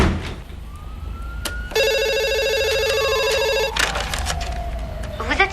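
A telephone rings before voicemail picks up, a steady electronic ringing tone holding for about two seconds over a noisy background, with a rising and falling whine around it.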